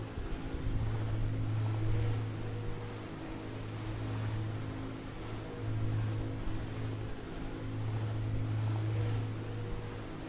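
Ship engines churn steadily in the Ship Simulator video game, a continuous low drone with a wash of waves and wind noise layered over it throughout.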